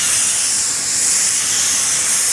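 A spray gun lays clear coat in a loud, steady, unbroken hiss that runs at close range, with no voices.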